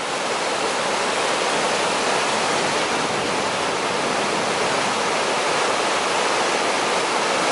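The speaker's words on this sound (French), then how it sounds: "le bruit de l'eau" Steady, loud rushing water at Parc de la rivière du Nord, a dense unbroken roar like a nearby waterfall or fast stream.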